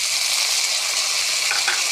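Spices and chopped tomato with green chilli fry and get stirred in a pan for a rohu fish curry, a steady bright sizzle with soft scraping stirs, close and continuous, no voices.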